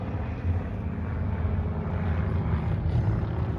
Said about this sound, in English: high-powered aerobatics from the Titans